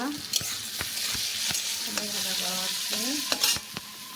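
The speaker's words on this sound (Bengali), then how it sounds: "আজকের মেনুতে হচ্ছে কুমড়ো ভাজা" Pumpkin slices frying in a pan give a steady close sizzle, punctuated by sharp clicks and taps of a utensil, while someone speaks briefly over it.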